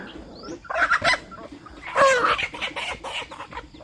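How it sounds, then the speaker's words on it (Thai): Native and bantam chickens clucking and squawking nearby in irregular bursts, several calls overlapping, with no talking. "ไก่ของเฮากับมี สองสายพันธุ์เด้อค่ะ ไก่บ้านกับไก่แจ่เฮาค่ะ"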